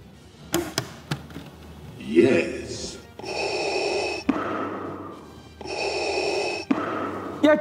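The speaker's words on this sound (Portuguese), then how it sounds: "Aqui desse lado nós temos o botão, justamente para você ter os efeitos sonoros da respiração do Darth Vader" Hasbro Black Series Darth Vader helmet playing its electronic breathing effect, two long mechanical hissing breaths in and out, close and loud, preceded by clicks and a person breathing.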